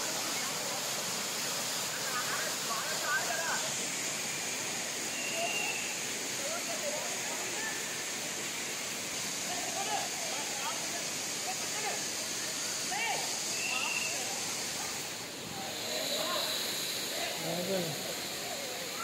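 Continuous broadband roar of Kothapalli waterfall, the so-called Andhra Niagara, where tourists bathe below, steady and fairly loud throughout with faint voices and activity scattered under the rushing water.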